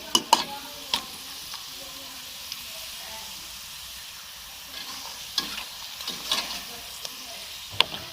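Acacia gum frying in hot ghee in a kitchen while laddus are being made, with a steady low sizzle and occasional sharp clinks and stirring taps from a spoon against the pan.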